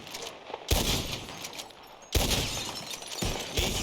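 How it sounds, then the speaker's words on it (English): Gunshots shatter bottles in the video game Red Dead Redemption 2, with three loud, separate cracks spaced a second or more apart, each followed by breaking glass and a ringing tail. "Who can shoot the most bottles? Just draw your gun and aim when you're ready"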